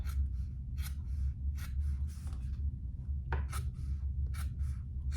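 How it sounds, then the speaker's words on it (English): Scissors trimming fabric close along a zipper strip while sewing a sling bag: a series of short crisp snips at an uneven pace, close-up and quiet over a low background hum. "trim as close as you can, just the zipper"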